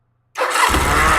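A Norton motorcycle engine catches after silence and keeps running, a loud, steady throaty roar with a low rumble building beneath it, close by with no talking.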